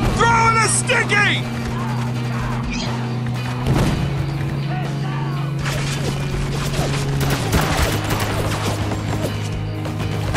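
Heavy machine gun turret in the shooter Spec Ops: The Line on a bridge, rattling bursts of rapid fire with impacts and crashes amid a loud, busy battle mix, with shouting voices and a sustained low drone running underneath.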